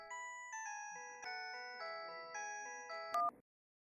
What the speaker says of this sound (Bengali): ও এই সময় আবার কার ফোন?